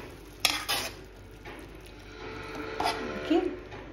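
A spoon scraping and clinking against a pan while curds are stirred lightly into Goan prawn pulao, with a few sharp metallic taps over a soft, steady background.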